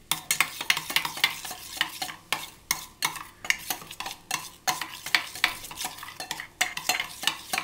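A spoon stirs and mixes spicy yogurt raita with salt in a bowl, giving a quick run of rhythmic scraping and wet slapping strokes with sharp clinks, up close and with no voices.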